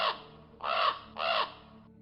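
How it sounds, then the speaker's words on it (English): A raven calls from overhead, three harsh, hoarse croaks spaced evenly apart, clear and fairly close against a quiet background. "the raven, which had kind of flown off and perched nearby, is calling to you"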